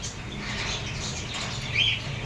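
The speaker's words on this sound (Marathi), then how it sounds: "हे बघा मित्रांनो, यात सोडले बघा पक्षी" Diamond doves released into a cage give a single short, high chirp over a faint airy background, with any wingbeats soft and indistinct.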